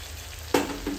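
Tomatoes and crushed garlic red chutney drop into hot oil for a Gujarati potato curry, giving a sudden sharp sizzle burst with a second smaller hiss just after.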